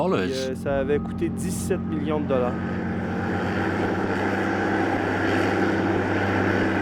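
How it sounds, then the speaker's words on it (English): A $17 million hovercraft icebreaker rides on an air cushion across the ice of the St. Lawrence, its engine and propellers giving a continuous roaring drone with a low steady hum, partly under someone talking at the start. "It's a vehicle riding on cushions of air that can sail at over 50 knots."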